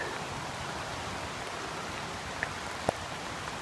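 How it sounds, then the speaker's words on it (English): Rain falling during a hike on West Mountain in Harriman State Park, a steady even hiss of light drizzle throughout, with a couple of faint clicks near the end and no talking. "It's starting to rain."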